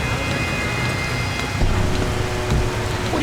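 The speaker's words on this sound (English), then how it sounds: "What are you doing out in the rain?" Rain falls steadily in the video game Splinter Cell Pandora Tomorrow, a dense constant patter and hiss with a couple of low thumps partway through and no speech.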